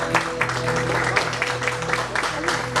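A live audience applauds at an evening poetry slam, with steady clapping from the crowd under a low sustained musical hum, and a voice speaks briefly during it.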